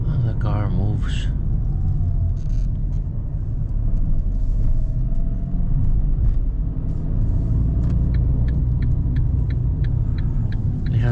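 A Fiat Panda 1.0 Hybrid pulls away in second gear, heard from inside the cabin as a steady low road rumble and engine drone, with someone speaking over it.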